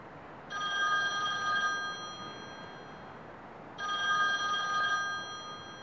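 A telephone bell used as a stage sound effect in a high school drama club production rings in two separate bursts of about a second each, clear against a quiet room hiss.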